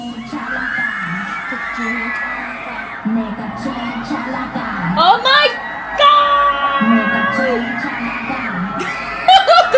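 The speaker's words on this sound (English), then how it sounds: "The people are screaming." A concert crowd screams and cheers in a fan-filmed recording of a performance. The shrieking stays loud and continuous under music, with voices talking over it.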